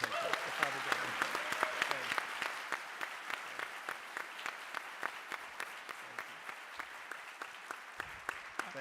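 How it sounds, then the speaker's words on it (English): An audience applauds at a public talk on civility and bipartisanship: dense clapping at first, then thinning into distinct, fairly rhythmic individual claps that carry on at moderate volume. "Please join me in a round of applause."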